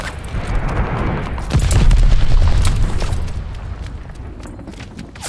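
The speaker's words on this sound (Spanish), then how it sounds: "El enemigo ha lanzado una bomba planeadora" A deep, rumbling glide bomb explosion swells and then slowly fades in the Call of Duty Vanguard shooter, loud and close amid scattered crackles and pops, with no voices.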